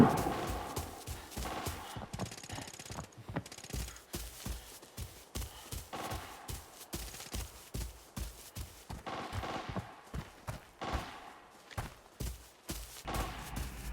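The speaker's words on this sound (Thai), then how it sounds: "นี่ก็ได้ยินเสียงการประทะของข้างบนแล้ว" Faint, scattered gunfire rattles from upstairs during a match of the shooter game Arena Breakout, with irregular bursts and single shots popping at a distance throughout, interspersed with quieter gaps.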